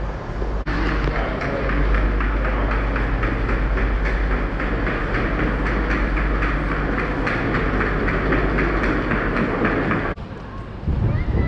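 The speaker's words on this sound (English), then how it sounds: "So I'm on the Sheffield station now" Ambience at Sheffield railway station: a steady, loud rumble of a train with a rhythmic clickety-clack running throughout, easing off briefly near the end.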